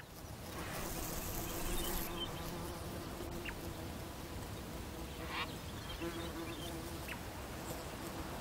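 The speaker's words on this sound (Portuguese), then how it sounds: "A mosca Megapalpus é o seu único polinizador." Megapalpus fly buzzing around orange Namaqualand flowers, a steady insect drone filling the whole clip outdoors with a few brief higher chirps over it.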